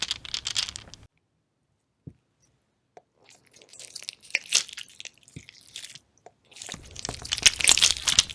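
Slime mixed with resin dice cubes is squished and pressed up close, giving soft crunches, wet squelches and crackles in short bursts separated by near-silent pauses.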